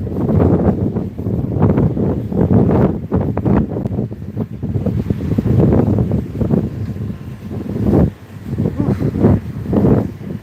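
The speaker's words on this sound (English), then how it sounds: "Oh my God, it's windy." Strong wind roars and buffets against the microphone in uneven gusts, a loud rumbling rush that swells and dips throughout.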